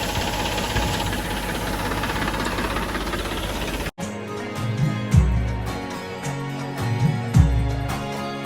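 A friend's tractor idles at a service stop, its engine running with a steady rough low rumble and knocking vibration, broken by a sudden cut before it continues with a few louder throbbing pulses.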